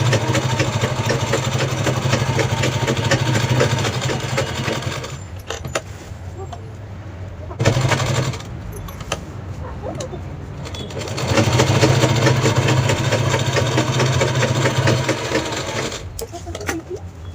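A sewing machine stitches fabric for a travel bag, its loud, close motor whirring in long continuous runs that stop briefly and start again.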